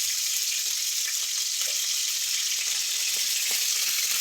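Mustard seeds splutter in hot oil, making a continuous bright frying hiss with small scattered pops, steady and close.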